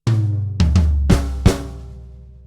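Drum kit fill with two added bass drum hits, starting on beat three: a sequence of five sharp strikes with booming low thumps, the last ringing out and decaying alone.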